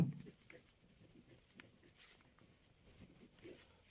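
Pen scratching on paper while working a maths problem, quiet light strokes and taps in irregular bursts, close and faint with a soft background hum.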